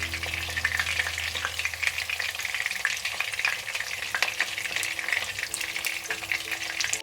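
Kebabs frying in a pan, a close, busy sizzle full of rapid crackles and spits that runs steadily throughout with no voices.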